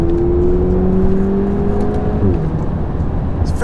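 A 2008 Audi TTS engine revs while driving, a loud steady throaty drone with rising tone that drops at a gear change near the end, continuous and close with no talking.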